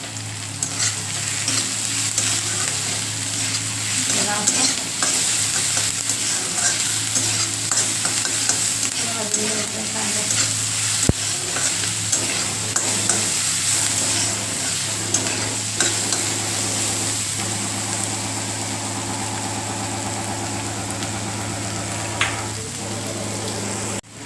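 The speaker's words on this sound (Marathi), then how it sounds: "कांद्यामध्ये ना मीठ टाकून घेऊयात म्हणजे जरासा गरम पडेल आणि लवकर भाजेल कांदा" Onions with salt frying in an iron kadhai, a long steady sizzle broken by repeated scraping and stirring strokes of a spatula against the metal, close and loud, with no speech.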